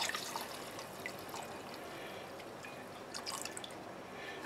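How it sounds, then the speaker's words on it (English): Brandy poured from a pint bottle into a jar for ginger brandy, a soft steady trickle and splash that runs on quietly with no one speaking. "I have a pint of brandy here, which is 2 cups. We'll pour that in there."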